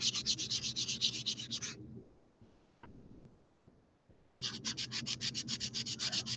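High-grit sandpaper rubbing a polymer clay faux gemstone made with Pardo jewelry clay, quick rhythmic scratchy strokes in two close bursts separated by a quiet pause.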